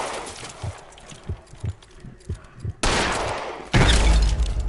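Gunfire in the L.A. Noire video game: a run of soft, evenly spaced low thuds, then two loud bursts of close shooting near the end.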